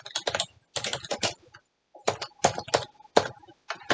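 Someone types on a computer keyboard in short bursts of rapid, close key clicks separated by brief pauses, crisp and dry, with no talking.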